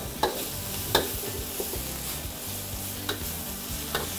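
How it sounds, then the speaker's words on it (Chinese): Chili paste stir-frying in hot oil in a wok, a steady close sizzle broken by sharp scrapes and knocks of the spatula every second or so, with no talking. "把辣椒糊加以翻炒"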